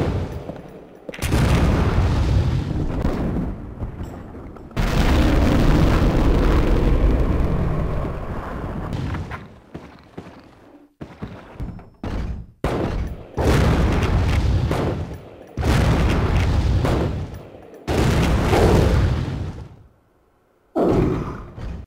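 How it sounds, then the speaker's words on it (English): Grenade launcher rounds explode against Nemesis in Resident Evil: The Umbrella Chronicles, several loud booming blasts in separate bursts with short gaps between, some long and rumbling, others brief and sharp. "So, 3 rounds to trigger the cutscene with the grenade launcher AT."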